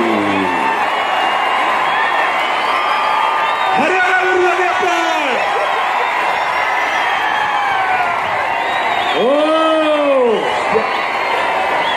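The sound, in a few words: crowd cheering at wrestling match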